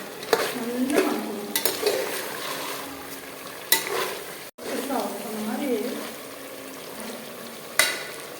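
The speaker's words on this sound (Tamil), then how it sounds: "நல்லா வதக்கணும்." Chicken gravy being sautéed and stirred in a pan, a soft sizzle with scraping stirs and occasional utensil knocks, with a voice talking over it at moderate level.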